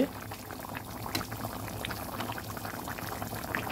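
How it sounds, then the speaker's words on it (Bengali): Koi fish and potato curry bubbles at a steady boil in a pot, a close, continuous simmering gurgle with no talk. "ভালোভাবে নেড়ে ডুবিয়ে দিচ্ছি। সুন্দর ফুটে উঠেছে।"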